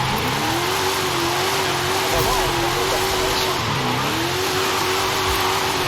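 Car engine sliding through a drift in Forza Horizon 5, a heavy wheelspin drift build losing forward traction, with a steady revving engine tone that dips and rises while someone talks over it throughout.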